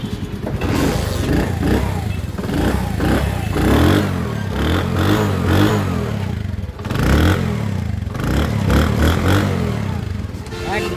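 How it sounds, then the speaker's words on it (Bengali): Honda CD80 motorcycle engine starting and running, a steady mid-pitched engine drone with rhythmic clatter and a brief dip around the middle before it picks up again, close by. "আপনারা স্টার্ট দিয়ে আমাদেরকে দেখাই।"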